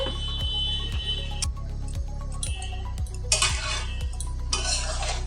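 A spoon stirs egg and shrimp pulao in a pot, repeated scraping strokes at a regular pace over a loud, steady low humming tone, with no voices.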